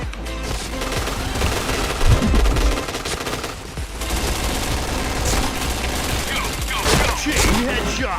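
Automatic gunfire in the online shooter PointBlank, dense bursts of rapid shots and weapon clatter, loud and continuous with brief lulls, a voice occasionally heard beneath.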